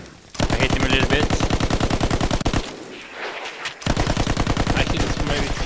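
A Chauchat machine gun fires in Battlefield 1 as two long, rapid bursts of loud, close shots, broken by a short pause of softer ambient battle noise.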